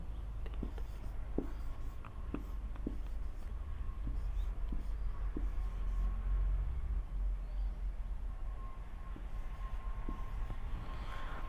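Chalk or a marker taps and scratches on a board in a math lecture classroom, making short, irregular strokes over a steady low room rumble, with no one speaking.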